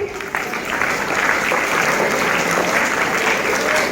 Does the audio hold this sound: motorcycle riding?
no